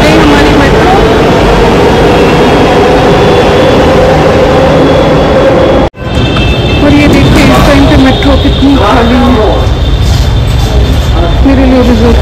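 A metro train pulls into a station with a loud, sustained engine and rail rumble that briefly cuts out, then resumes with rising whine and brake tones, while someone talks over it.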